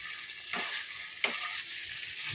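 Cauliflower korma masala in hot oil bursts into a loud hiss twice as hot water is added, each burst settling back into a steady background sizzle.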